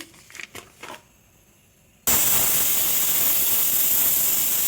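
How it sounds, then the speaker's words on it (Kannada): Pressure cooker with green gram for sambar lets out a sudden loud, steady hissing steam whistle that starts abruptly after a few soft kitchen knocks and holds on without a break. "ಕಾಳು ಕುಕ್ಕರ್ ಸಿಗ್ತಾ ಇದೆ."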